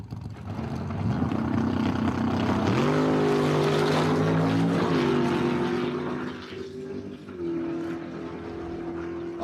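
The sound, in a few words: Dodge Charger and Chevy Nova drag racing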